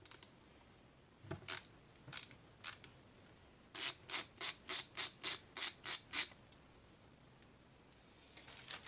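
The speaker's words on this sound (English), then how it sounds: "So we're going to go ahead and just take the screw out here." A screw being backed out of a Yamaha Kodiak carburetor gives a few scattered ratcheting clicks, then a steady run of about eight evenly spaced ratchet clicks, close and crisp, with no voice over them.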